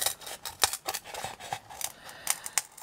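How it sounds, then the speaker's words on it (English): Sharp scissors cut through lace for a handmade lace caddy, giving a quick series of crisp snips and rustles at close range, with no talking. "I know I'm using the wrong scissors"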